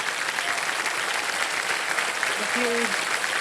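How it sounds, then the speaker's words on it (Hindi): A TV quiz show studio audience on KBC applauds a contestant who has won 7.5 lakh rupees, a continuous, even roar of clapping held at full level throughout, with a brief tonal blip near the end. "तालियां बज जाए उनके लिए।"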